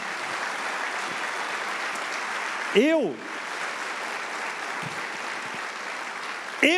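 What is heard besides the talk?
church congregation applauding God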